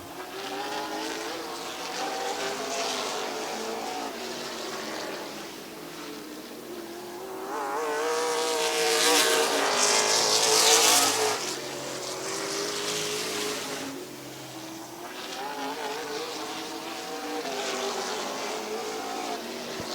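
Race trucks roar around Midvale Speedway, a continuous, loud engine drone that swells as the pack passes close by midway, then fades back into a steady distant growl.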